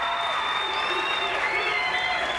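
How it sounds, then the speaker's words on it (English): A crowd at the National Dog Show applauds and cheers steadily as a dog makes its final run, a dense, continuous wash of clapping and whoops with an announcer's voice over it. "You can hear it in the crowd, though."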